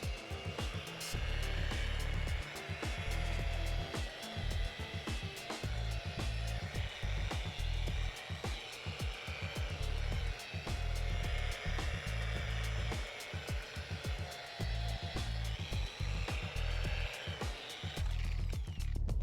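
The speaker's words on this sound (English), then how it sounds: "Using the drill when polishing will also work." A drill runs with polishing compound on a car headlight, whirring steadily in a long, continuous grind that has a rapid fluttering texture and holds a fairly even level throughout.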